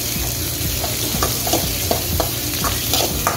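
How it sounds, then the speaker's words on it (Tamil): Chopped onions frying for chilli chicken are stirred in a hot pan, giving a steady loud sizzle broken by regular scraping strokes of the spoon, close up with no talking. "வெங்காயமும் சேர்த்து நல்லா கிளறி விட்டுருவோம்"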